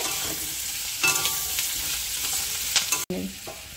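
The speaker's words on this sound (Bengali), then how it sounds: "দিয়ে ভালো করে একটু নাড়াচাড়া দিয়ে নেবে।" Chicken for chilli chicken sizzles steadily in a hot pan while being stirred, with scraping spatula strokes and a brief pause near the end, close and alone with no talk.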